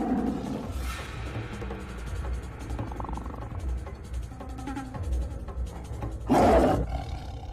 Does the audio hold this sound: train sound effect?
no